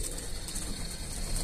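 Pigeons coo softly among a flock let out of a backyard loft, a low continuous murmuring over steady background hiss, with no talking.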